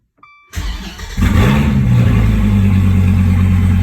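A short electronic chime, then a starter whirs and the V10 engine of a 2016 Dodge Viper GTC ACR fires up, roaring loudly before settling into a deep, steady idle.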